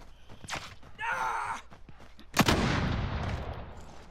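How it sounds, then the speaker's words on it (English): Gunfire in a battle royale video game, a few separate shots followed by a loud, close blast that trails into a rumbling wash, with no talking. "Getting shot from the north."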